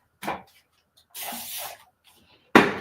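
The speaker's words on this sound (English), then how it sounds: "I'm using a spray bottle and some paper towels to take some of the paint off." A spray bottle mists water onto an acrylic painting in three short, close hissing bursts, the last the loudest, separated by near silence.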